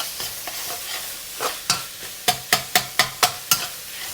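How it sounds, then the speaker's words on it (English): Chopped garlic and minced pork frying in a wok for a potato and long bean stir fry, a steady sizzle broken by a run of sharp, rhythmic spatula scrapes and clacks that grow more regular toward the end. "Move them around, fry until you can smell the beautiful aroma from the garlic"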